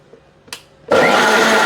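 A mixer jar grinding raw beetroot for a dog cake starts after a quick clunk and a short silence. It then roars at full loudness, close and continuous.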